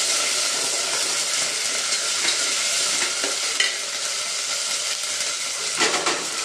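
Ginger garlic paste sizzles and crackles steadily in a hot frying pan while making mint rice, a dense continuous hiss with light stirring scrapes throughout.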